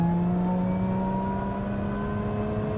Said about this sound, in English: you can hear immediately it's changed down a gear for me